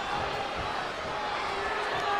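Steady arena crowd noise in the WWE 2K24 wrestling video game during an NXT Battleground pay-per-view match, a continuous dense roar of cheering throughout.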